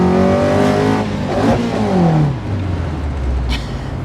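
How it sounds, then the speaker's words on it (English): A restomod MGB's engine revs up and burbles close by, rising in pitch through one strong rev before falling back to a steady low idle, with no talk over it. "It does burble along very nicely, just like an MGB, kind of."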